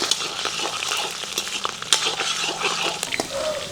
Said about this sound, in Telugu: నూనె వేడెక్కగానే 1 చెంచాన్నర జీలకర్ర వేసుకుందాం.